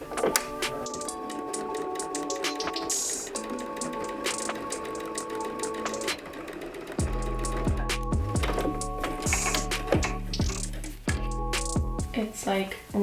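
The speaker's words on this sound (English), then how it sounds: "I'm just gonna find that line as I'm sewing this strap on." A sewing machine stitching a dress strap along a hem seam, rhythmic mechanical needle pulses in bursts that start and stop, close by, with a person talking over parts of it.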